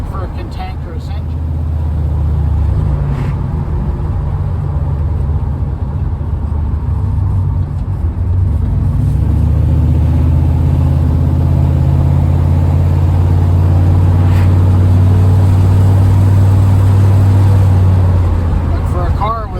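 The turbocharged LS engine of a Buick with a TH400 transmission hums and rises in pitch as the car accelerates, heard from inside, with someone talking over the engine noise.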